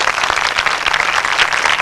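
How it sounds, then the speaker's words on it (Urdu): A church congregation claps for Jesus, dense and steady applause from many hands filling the whole moment at close range. "ہاں یسوع کے لیے زوردار تالیاں بجاتے ہیں"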